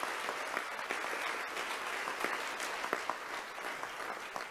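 Audience clapping at an annual alumni awards event, a moderately quiet, even wash of applause with scattered distinct claps and no talk.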